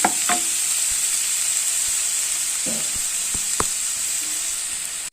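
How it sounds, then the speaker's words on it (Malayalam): Small onions sauté in hot coconut oil for a village-style chicken curry, giving a steady loud sizzle with a few sharp spatula scrapes and clicks against the pan throughout, and no voices. "ചെറിയ ഉള്ളി ഇട്ടൊന്ന് വഴറ്റിയെടുക്കാം"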